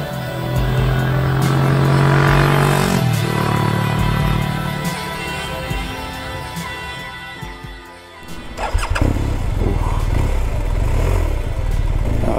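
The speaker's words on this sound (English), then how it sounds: "This is going to be my attempt at riding a BMW R1250R" A BMW R1250R motorcycle engine running close by, starting with a low idle, then a shift in tone and a brief dip before it picks back up with louder, rougher revving.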